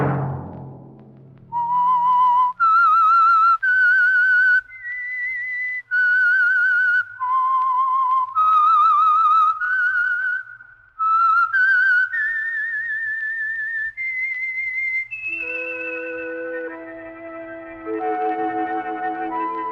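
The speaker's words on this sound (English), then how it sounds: "Let that whistle be your signal for the Signal Oil program, The Whistler" A clear, echoing whistled melody serves as the theme tune of The Whistler radio program, a lone whistler carrying sustained, gliding notes in separate phrases, followed at the end by a soft orchestral chord.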